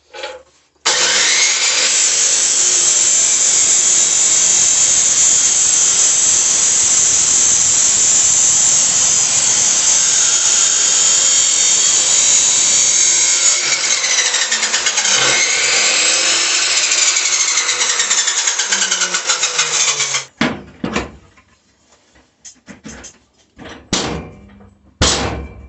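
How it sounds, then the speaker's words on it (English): A power tool cuts metal for the rear chassis of a home-built LoCost car, screaming loudly and without a break for about twenty seconds before stopping, followed by a few scattered metallic clanks and knocks. "let's start chopping this metal around"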